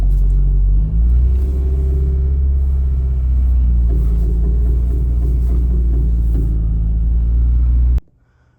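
Acura RSX Type S with a steering fault, turning the wheel at low speed: a steady, loud low rumble of engine and chassis noise with a faint grinding undertone, running continuously for about eight seconds before cutting off abruptly.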